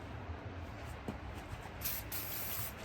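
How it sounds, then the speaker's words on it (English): A faint, soft hiss of degreaser sprayed from an aerosol can over a 305 Tuned Port Injection engine, quiet at first and then a brighter burst of spraying toward the end. "I spray it over everything."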